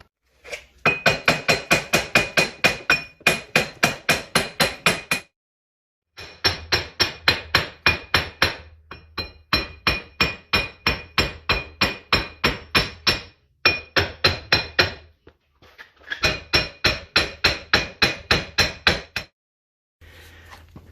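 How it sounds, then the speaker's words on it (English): A hammer pounds a wheel bearing hub on a 2005 Dodge Dakota in rapid, loud metallic strikes. The blows come in repeated bursts with short pauses between them, close and ringing, with no talking. "So now we're going to hammer this off a few times."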